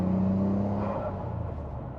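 Turbocharged right-hand-drive car cruising smoothly, a steady low engine drone with a whirring tone that eases off slightly, heard from inside the cabin with no talk.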